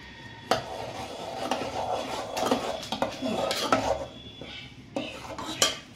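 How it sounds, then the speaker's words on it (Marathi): Spoon mixing paneer tikka marinade with turmeric in a bowl, producing irregular clinks and scraping rubs against the sides, close and moderate in volume with no talking. "आता ह्याला सगळ्याला आपण मिक्स करू."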